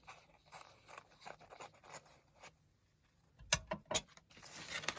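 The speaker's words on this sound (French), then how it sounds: "je vais découper juste grossièrement le pourtour avec mes ciseaux" Scissors snip and crunch through a thin paper napkin in short irregular bursts, with quieter rustling between cuts.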